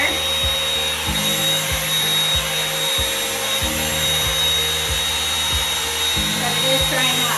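Revlon One-Step hair dryer running on high, a loud steady motor whine and airflow hum, close and continuous, with faint periodic thumps as the brush moves through hair.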